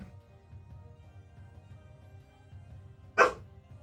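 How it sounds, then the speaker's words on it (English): One short, sharp dog bark rings out indoors near the end, after a stretch of quiet low room hum. "what is Bella barking for"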